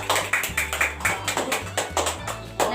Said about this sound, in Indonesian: Tepuk tangan buat Mbak Dea.